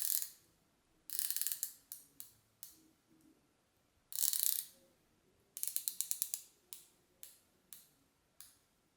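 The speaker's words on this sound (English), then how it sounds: "All the 120 clicks are well defined and very clicky with minimum backplay." Rotating bezel of a Christopher Ward C65 Dartmouth watch, a 120-click unit, ratchets in quick crisp bursts of close, dry clicks, each run separated by short pauses and the occasional single click.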